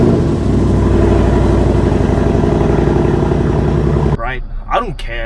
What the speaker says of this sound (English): the sixth thing that I do not like about this car is the cold start